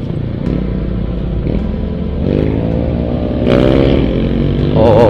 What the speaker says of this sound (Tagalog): Malakas ang motor.